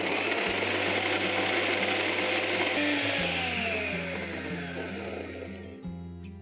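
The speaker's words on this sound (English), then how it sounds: "Let's grind this once again." Mixer grinder blending an avocado corn dip with mayonnaise, a loud steady motor whine that shifts pitch in steps and then winds down.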